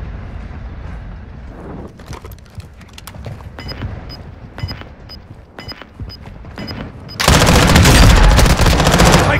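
Automatic gunfire in Call of Duty: Warzone 2.0 rattles in rapid bursts of close shots, then gives way to a loud, dense, sustained barrage of fire in the final seconds.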